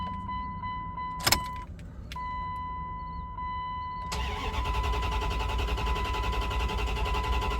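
A car's engine cranks over after a wiring repair, with a brief sharp burst near the start and a steady tone, then catching at about four seconds into a loud, continuous broadband run that holds to the end.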